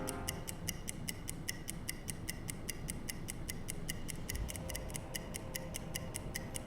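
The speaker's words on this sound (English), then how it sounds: "we will check with the stopwatch here" A stopwatch in a U-boat submarine video game ticks in a steady, evenly spaced rhythm of sharp, close clicks over a low, constant rumble of the boat, with no voices.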